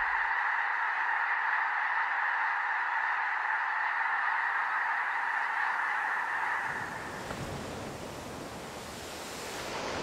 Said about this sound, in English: Snow geese descend like blizzards onto these vast fields